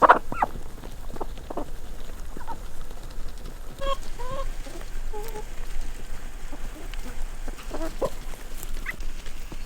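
Chickens cluck and squawk in scattered bursts on a horse ranch, several birds calling near and farther off over a steady outdoor background.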